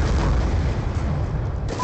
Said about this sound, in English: Friendly Hellstorm missile there.